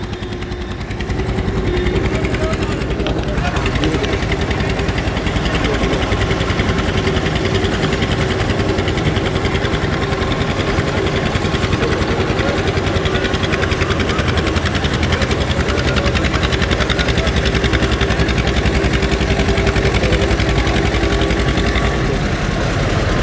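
A tractor engine idles at a grain market, a loud, close, steady rattling chug holding a constant drone for the whole stretch with no talk.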